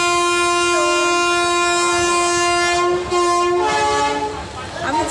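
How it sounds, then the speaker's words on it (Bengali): A passenger train boarded at Shalimar station sounds a long, loud horn over a steady rolling rumble, and the horn tone shifts and fades as the carriage keeps moving. "এ দেখো ট্রেন এখনও একটু থেমে গেছে আবার চলছে"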